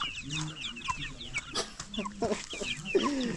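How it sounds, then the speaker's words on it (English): Chickens cluck and chatter close by outdoors, several birds calling over one another in a steady busy stream. "Look at this chicken, guys."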